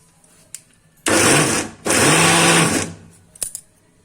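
A mixer grinder grinding green peas runs loud and close in two bursts, about a second each with a short pause between, followed by a few light clicks and knocks.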